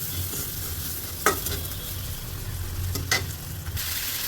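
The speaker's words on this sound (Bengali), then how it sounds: "এখন এটাকে সুন্দরভাবে নাড়াচাড়া করে ভাজি করে নিচ্ছি" Green banana frying with onion, chili and turmeric in a pan, a steady low sizzle with two brief scraping stirs, close and alone without talk.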